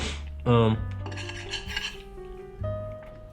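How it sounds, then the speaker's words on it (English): A metal fork scrapes leftover rice and breadcrumbs across a plate at the table, with a sharp clink followed by a few close, soft scraping strokes. "I'll just turn my fork over like this, and then just start scraping onto my fork like you guys would do"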